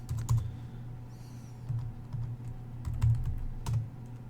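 Typing on a computer keyboard, a quick irregular run of close, soft key clicks with brief pauses between bursts.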